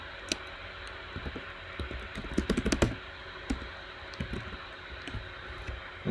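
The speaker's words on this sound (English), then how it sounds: "it's hard typing at this angle" Bursts of keyboard typing on a computer, soft scattered key taps that cluster into a quick flurry midway, then thin out against a quiet room hiss.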